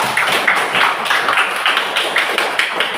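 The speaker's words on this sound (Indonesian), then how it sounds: "Tepuk tangan bagi Gina semuanya." Classroom of students in Indonesia clapping to applaud a classmate; a steady patter of many hands, close and lively, with a few light thuds and no talking.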